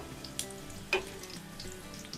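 Beef fat rendering down into ghee in a pan after the heat is switched off, a low, faint sizzle with a couple of soft clicks, close and without voices.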